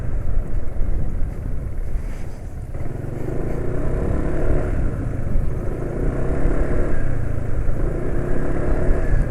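A motorcycle engine idles and runs with a rough, continuous rumble and some rattling, noisy from its oil, loud and steady with no voices.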